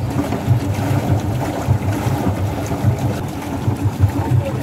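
Boat on Karnal lake moving across the water, a loud, close motor chug with rhythmic low thumps under wind noise and water sounds.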